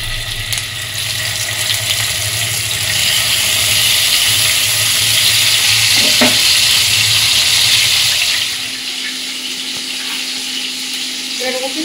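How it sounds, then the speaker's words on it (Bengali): Hilsa fish fry in mustard oil in a wok with a loud, steady hiss and sizzle that holds for about eight seconds, with a brief clatter midway before the sound eases off. "ইলিশ মাছগুলো তেলের মতো বসিয়ে দেবো।"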